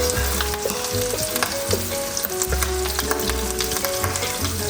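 Butter sizzles and spatters hard in a hot pan, a loud, close, continuous crackling fry with sharp pops and scraping stirs, no voices.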